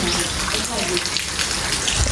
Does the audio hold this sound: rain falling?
yes